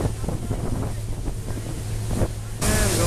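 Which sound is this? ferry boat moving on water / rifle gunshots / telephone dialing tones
ferry boat moving on water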